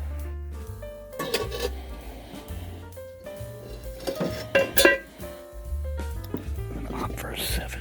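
A moon pan being handled, with metallic clinks, clanks and rattles against a cluttered surface, close and intermittent, mixed with people talking.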